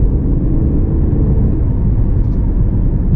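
A 2000 BMW 323i cruising smoothly, its engine and road rumble forming a steady, loud low drone with no breaks or gear changes, heard from inside the cabin.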